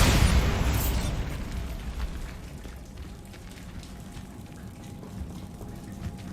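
A Bombarda spell detonates in Hogwarts Legacy, a sharp loud explosion right at the start that fades into a long rumbling tail with patter like falling debris.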